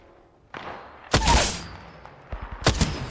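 Gunfire in the Apex Legends video game comes in sharp, loud bursts: one heavy volley followed by a short rattle of shots, with a quieter thump near the start.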